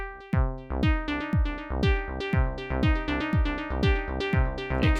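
An Elektron Syntakt pattern of bass drum kick and SY tone voice with a dotted-eighth delay added, the repeating hits echoing into a busy rhythmic cascade of pulses, steady and moderately loud, no voices.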